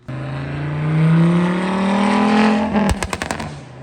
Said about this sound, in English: I'm gonna insert a clip of my buddy Jesse and his Sonic Blue V70R right here.